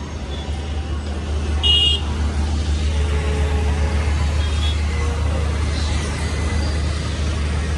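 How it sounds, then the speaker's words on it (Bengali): Busy Delhi street traffic near the railway station, with rickshaws, vans, trucks and buses rumbling past in a constant low roar, a brief horn toot, and faint voices in the background. "অনেক রাস্তাঘাটে চলাফেরা করতেছে রিক্সা, ভ্যান, ট্রাক, বাস এবং বিভিন্ন যানবাহন।"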